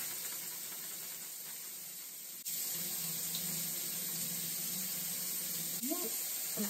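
Vegetables, including peppers and onions, being rinsed under a running kitchen tap, a steady close hiss of water into the sink that gets a little louder partway through, with no talking.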